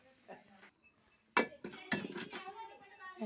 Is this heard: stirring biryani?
yes